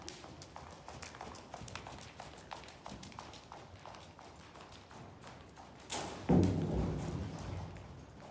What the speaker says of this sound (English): She jumped the barrel.